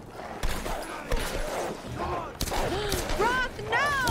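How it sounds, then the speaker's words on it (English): Gunfire in the Tomb Raider video game, several sharp shots and bursts scattered over a busy game soundtrack with shouting voices and whooshing effects, moderately loud. "Who's shooting at me?"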